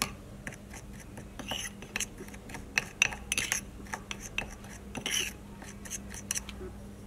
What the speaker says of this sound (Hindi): इन सबको अच्छे से मिक्स कर लें।